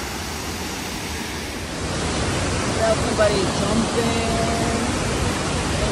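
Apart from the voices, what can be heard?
waterfall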